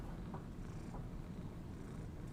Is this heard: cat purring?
yes